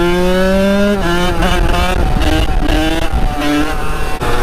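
A Kawasaki KX 85 dirt bike engine revs loud and close, its high buzzing two-stroke note rising and dropping through repeated throttle blips with no pause.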